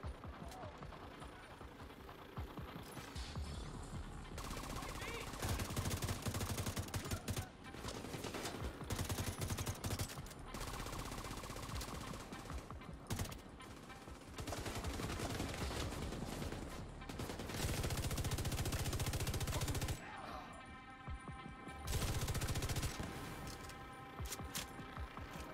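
Video game gunfire, with repeated bursts of rapid automatic shots and single cracks coming in waves over a long stretch, loud and dense, with a few quieter pauses between volleys.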